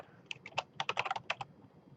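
Keys clatter on a computer keyboard as a command is typed into a Minecraft chat, a quick burst of close, crisp taps in uneven clusters.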